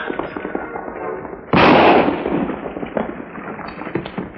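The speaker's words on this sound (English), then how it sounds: "Rifle shots come from road, maybe." A single sharp, loud rifle shot rings out in a radio western drama, a sudden crack with a short decaying tail, standing alone against a quiet background.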